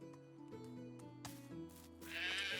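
Sheep in a fold in the medieval farming game Medieval Dynasty bleat repeatedly in short, wavering calls, several overlapping at moderate volume with a brief rustling hiss near the end.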